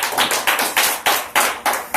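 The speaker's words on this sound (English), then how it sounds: "Give the Lord a hand clap of praise." A church congregation claps hands in praise, a series of sharp, loud bursts of clapping that come in a regular rhythm, each burst trailing off before the next, with no talk.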